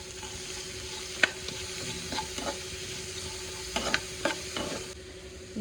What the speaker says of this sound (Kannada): ಇವಾಗ ಆನಿಯನ್ನ ಆ್ಯಡ್ ಮಾಡ್ಕೊತಾ ಇದ್ದೀನಿ ನಾನು.